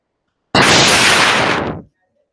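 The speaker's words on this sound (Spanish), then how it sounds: "Sus frutos estallan haciendo un ruido tan fuerte que algunos la conocen como tronadora." A ceiba de leche (tronadora) fruit bursts with a single loud, close, broadband crack that rings on for over a second before cutting off abruptly, heard alone with no talk.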